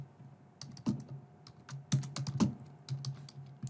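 Someone types appointment details into a web booking form on a computer keyboard: quiet, irregular keystroke clicks with short pauses between bursts.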